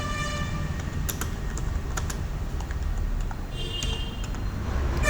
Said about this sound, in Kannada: ನೋಡಿ ಈಗ ಟೈಪ್ ಮಾಡ್ತೀನಿ